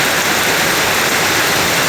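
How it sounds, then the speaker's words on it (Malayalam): Rainwater pours steadily off clay roof tiles during a summer morning shower, a dense continuous hiss and splatter close by with no voices. "ഇതാ എൻ്റെ ഓട്ടുനിന്ന് വീഴുന്ന വെള്ളമാണ് ഞാൻ കാണിക്കുന്നത്"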